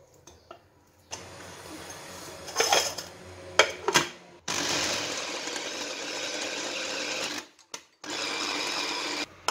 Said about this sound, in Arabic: غادي نبدا اول حاجه غادي نطحن هاد الدجاج